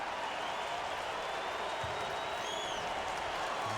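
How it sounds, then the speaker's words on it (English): A ballpark crowd at a Cubs at Rockies baseball game, with Cubs fans applauding and Rockies fans booing, heard as a dense, continuous distant roar of crowd noise throughout. "The number of Cub fans in the ballpark applauding, and you hear the boos from the Rocky fans"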